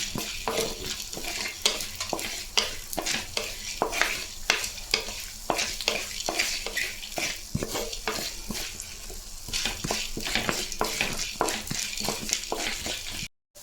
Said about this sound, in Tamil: சோம்பு முக்கால் டீஸ்பூனு இந்த நல்லா ஒரு ரெண்டு நிமிஷம் அந்த சூட்டில் தொழிக்கலாம்